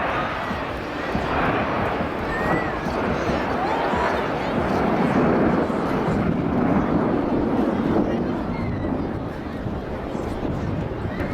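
Red Arrows jets at an air show, a loud continuous broad roar of engine noise and wind lasting throughout, steady with no clear gaps, while a commentator talks over it.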